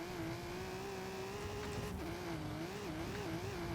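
A sustained, steady engine drone from an Aston Martin in Forza Horizon 5, held in fourth gear and buzzing against the rev limiter on a snowy Hot Wheels track, loud and continuous with slight wavering pitch throughout.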